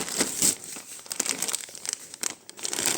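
Plastic packaging crinkles and rustles up close in irregular bursts, with a few sharper crackles as it is pulled open.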